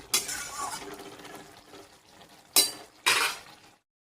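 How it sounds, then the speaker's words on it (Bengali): Spices being stirred and fried in a pan for a meat-style dish, with a sizzling wash and sharp scraping or clanking bursts of the utensil against the pan, no talking. "এখন এই যে মশলা দিয়ে দিলাম, মশলা দিয়ে ভালো করে কষিয়ে নিচ্ছি"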